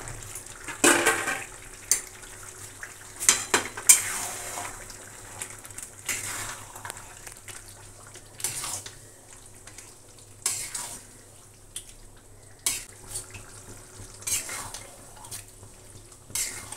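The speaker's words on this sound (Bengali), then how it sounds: "এইবার দিয়ে দেবো আমার ম্যারিনেট করা মাটনগুলো" Yogurt-and-turmeric-marinated mutton goes into a pan for a traditional mutton and potato curry, giving soft sizzling with intermittent scraping stirs and clinks of a utensil against the pan.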